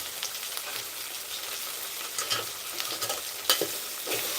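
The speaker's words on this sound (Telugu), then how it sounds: "చక్కగా స్మెల్ వస్తుంది అల్లం వేగుతుంది" Ginger fries in oil in a pan for khichdi with a steady, soft sizzle. Scattered scraping stirs break through the sizzle, and no one speaks.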